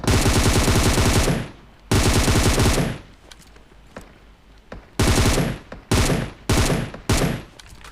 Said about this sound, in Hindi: उसको मैंने कुछ शॉट कनेक्ट करके मार दिया